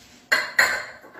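A metal round cake pan being handled in a kitchen while making a raw vegan cheesecake, giving two quick close clanks in succession, each ringing briefly before fading into quiet.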